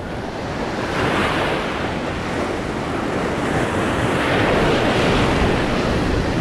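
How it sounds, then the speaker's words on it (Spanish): Large ocean waves break and wash onto a beach, a loud, broad roar of surf that swells and stays heavy with wind buffeting the microphone. "Ahí vienen las olas grandes a ver qué pasa."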